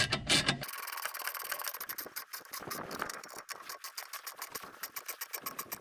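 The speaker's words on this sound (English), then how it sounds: "That's where this little short ratchet wrench comes in handy." A small short ratchet wrench tightens exhaust nuts on a Franklin log skidder, giving a fast, steady run of light clicking that is faint and close, with no talking.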